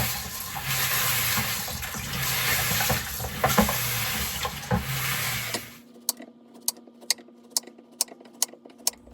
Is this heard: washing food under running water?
yes